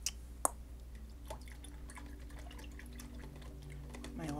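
A paintbrush swishes and taps in a cup of dirty, red-tinged rinse water, giving a few faint drips and small splashes over a low steady hum.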